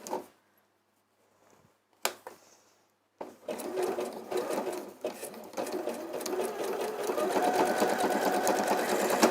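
A sewing machine running a zigzag stitch through fabric near a magnetic clasp: a few short bursts and pauses, then steady, close, continuous rapid stitching that builds slightly in loudness.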